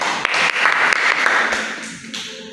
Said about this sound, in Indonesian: kita beri tepuk tangan untuk Bapak Purbaya